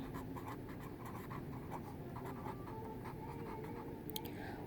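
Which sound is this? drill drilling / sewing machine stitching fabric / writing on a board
writing on a board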